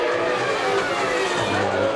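Formula 1 cars at the 1992 Hungarian Grand Prix, a loud continuous high-pitched engine scream near and sustained, with a faint commentator's voice underneath.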